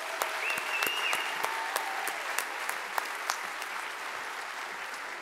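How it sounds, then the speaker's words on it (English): A staff meeting audience gives a steady round of applause, a continuous wash of many hands clapping with occasional sharper claps and a faint whistle, sustained evenly throughout without speech. "If we can get everyone one more round of applause."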